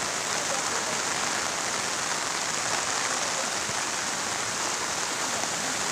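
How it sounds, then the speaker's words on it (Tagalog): Steady, dense heavy rainfall on a mountain farm pattering on surfaces, a continuous broadband hiss with no voices, unchanging for the whole stretch. "today is a rainy day"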